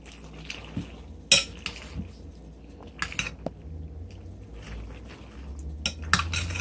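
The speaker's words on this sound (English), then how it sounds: "We're going to stir that up." A utensil stirs ingredients in a bowl with a few clinks and scrapes against the side and one sharper knock, all close and moderately loud, with no talking.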